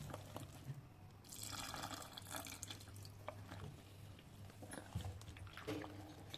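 Water trickles and splashes into thick boondi batter in short pours, faint and close, over a low steady hum.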